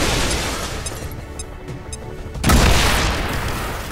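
Grenade blast in the video game XCOM 2: a sudden loud boom strikes midway and rumbles on, preceded by quieter clicking game sounds.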